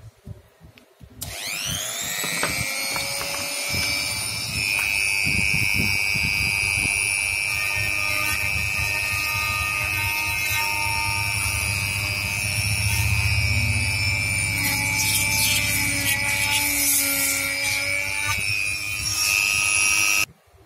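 A small electric drill whines steadily while boring into an LED flashlight housing, a loud continuous motor tone with grinding from the bit, running nearly alone for about twenty seconds before stopping.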